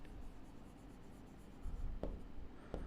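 Pen scratching on paper while working a set theory math problem, a soft continuous scraping with a couple of sharper taps from strokes, close and faint, with no talk.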